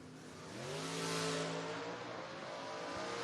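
Footbrake drag race cars, including a COPO, launch hard with wheels up at a 2025 drag racing event, engines roaring and climbing in pitch over a few seconds, loud and close, with no voices.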